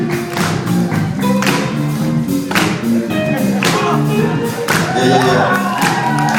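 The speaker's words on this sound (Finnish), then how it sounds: "Anna aplodit Pietarille vielä kerran" An audience claps and cheers for a performer named Petteri at a live show, a dense run of hand claps with crowd noise and music-like tones carrying underneath.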